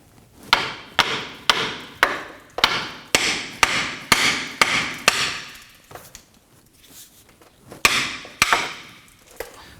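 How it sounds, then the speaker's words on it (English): A hammer strikes a ball joint on a 2015-2024 Nissan Murano front control arm in a steady series of sharp, ringing metal blows, about a dozen in all, with a short pause before a few final hits. "probably a few whacks with the hammer should help."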